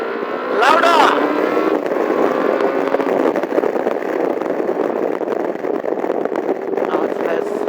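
Honda CB400SF café racer motorcycle engine revving under throttle in second gear, a steady loud drone that swells briefly near the start, with a voice talking over it.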